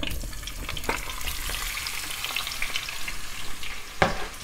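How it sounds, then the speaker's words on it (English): Meatballs browning in a hot pan for spaghetti in tomato sauce give a steady, close sizzle and crackle, with occasional spatters and a sharp clank near the end. "Now I'm putting the meatballs in."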